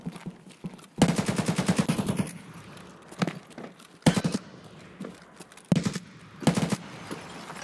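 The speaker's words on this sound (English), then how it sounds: "You saw that shot? That was with an AK." AK rifle fire in the Escape from Tarkov game: a loud rapid burst followed by several separate sharp shots spread across the clip, with a near, punchy sound.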